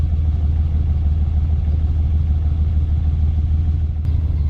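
A Ferrari 365GT 2+2 engine with three carburetors runs steadily at idle, a close, dense low rumble with a continuous even churn and a brief tick near the end, and no voices.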